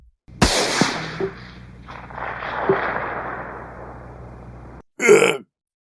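A sharp, loud gunshot cracks close by and echoes out for several seconds, followed by a brief harsh burst at the end.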